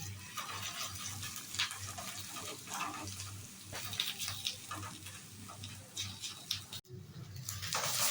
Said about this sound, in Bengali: এর মধ্যে আমি রসুন বাটা, আদা বাটা আর কাঁচা লঙ্কা কুচোগুলো দিয়ে দিলাম। দিয়ে আমি এটাকে ভালো করে নাড়াবো।